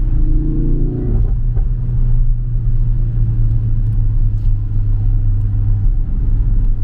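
A Citroën C6 car engine drones steadily while driving, a low continuous rumble with a brief rising tone near the start, heard from inside the cabin throughout.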